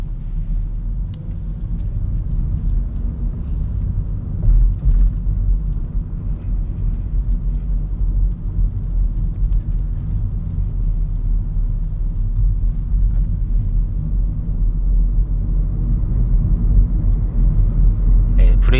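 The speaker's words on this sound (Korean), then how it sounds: "이번에는 드라이브 모드에서 제가 브레이크를 잡지 않고 한번 내려가 보도록 하겠습니다" A car rolls downhill in drive mode with no braking, heard from inside as a steady low road and engine rumble that swells slightly as speed builds; someone talks over it throughout.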